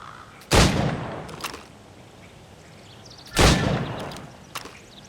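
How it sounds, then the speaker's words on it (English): Two loud single gunshots about three seconds apart at targets in Assassin's Creed Rogue, each trailed by fainter clicks and a soft rumbling room tone. "Go on. Shoot these targets."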